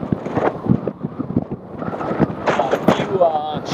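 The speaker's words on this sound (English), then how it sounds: "it is extremely windy today. Extremely windy." Strong gusts buffet the microphone with rumbling, irregular thumps while someone talks, and the wind roars steadily throughout.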